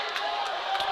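Basketball crowd at a high school boys game yelling and cheering, a steady wash of many voices at moderate distance with a commentator's voice faintly over it.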